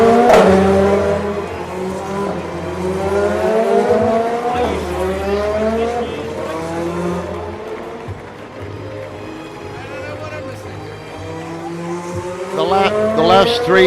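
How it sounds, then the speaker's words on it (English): LMP2 prototype race cars sweep past at Le Mans, their engines roaring loud and close with rising and falling pitch as each car goes by in quick succession, and a voice talks over the noise. "Here come the LMP2s."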